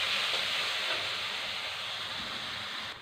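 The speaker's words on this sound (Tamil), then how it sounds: "வெங்காயம் நல்லா வதங்கணும்." Onions sautéing in hot oil in a pan for a non-veg kuzhambu with vegetables, a steady close sizzling hiss that stays even and fairly quiet throughout, with no one talking.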